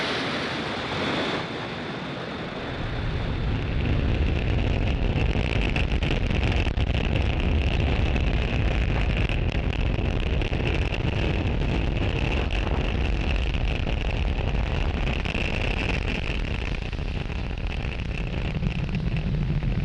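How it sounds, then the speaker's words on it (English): A Falcon 9 rocket lifting off from Space Launch Complex 40 at Cape Canaveral, Florida, at night: after a brief quieter moment, a massive continuous roar swells in and holds steady as a dense, rumbling, crackling wall of sound, heard from a distance. "Falcon 9 has successfully lifted off from Space Launch Complex 40 from Cape Canaveral, Florida at 11:58 p.m. Eastern Time"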